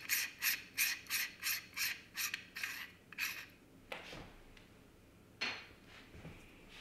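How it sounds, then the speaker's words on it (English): A telescope filter adapter is unscrewed by hand, giving a quick run of close, rhythmic ratcheting clicks and scrapes, then a few slower rubbing turns and a couple of faint knocks, alone and quiet. "Then this adapter unscrews right here."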